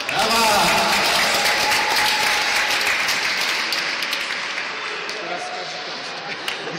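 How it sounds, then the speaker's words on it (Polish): Applause at an indoor league tournament awards ceremony after a football freestyle workshop, a dense, loud crowd clapping that stays steady and slowly fades, with voices mixed in underneath. "Super, świetnie, wielkie brawa."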